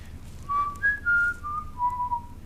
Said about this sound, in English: he only whistles when you blow out.